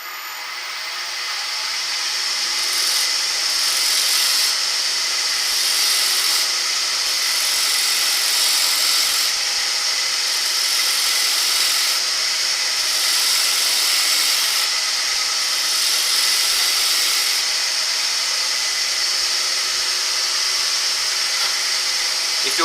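A wooden bowl spins on a lathe under a cutting tool, a loud continuous whirring hiss that holds steady and pulses slightly as the tool works along the curve, with no voices.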